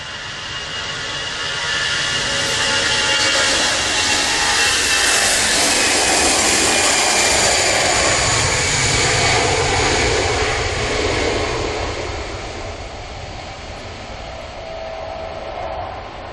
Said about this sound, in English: Airbus A320